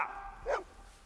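A single short, sharp dog bark from the horror film Dog Soldiers rings out close and alone, then fades into a faint low hum.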